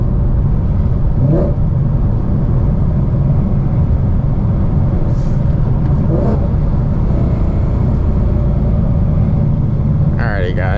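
A car engine under a wide-open throttle pull roars loudly and steadily for the whole stretch, a dense rumbling drone with faint rising sweeps near the end.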